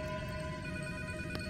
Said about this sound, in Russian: Кажется, звонит телефон.